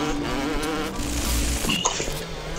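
A small fly buzzes in BioShock, a thin wavering drone with fluctuating pitch that hovers close and steady for a couple of seconds against low game ambience, with a few faint clicks near the end.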